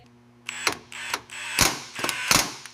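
A hoist tensioning to lift a truck cabin in a garage, giving a series of sharp metallic ratcheting clanks in irregular bursts, close and fairly loud between quiet gaps.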